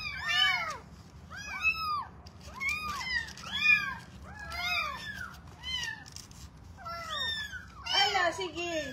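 Several kittens meow in quick, high, repeated cries throughout, with many overlapping calls of varying pitch over a low steady background hum, at fairly close range during a cat fostering session.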